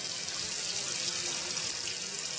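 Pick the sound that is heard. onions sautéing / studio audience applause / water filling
water filling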